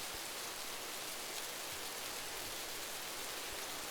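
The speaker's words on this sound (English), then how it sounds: "Oh, it's raining again." Rain falls steadily in Rising World game, a soft even hiss of fine drops with no talk over it.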